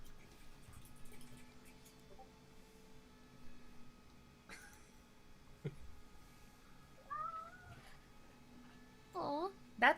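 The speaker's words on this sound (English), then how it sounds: "Aw, that time we heard him meow." A domestic cat lets out a few short meows toward the end, close by in a quiet room, amid faint dripping and small thuds.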